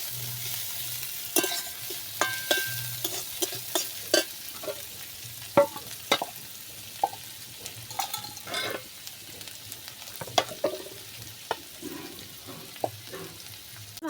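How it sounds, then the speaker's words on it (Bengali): Chopped onion and green chili fry in a pan, with a steady low sizzle punctuated by frequent scraping and clinking stirs of a spatula at irregular intervals, close and fairly loud, with no speech. "পেঁয়াজটাকে লাল লাল করে ভেজে নেব।"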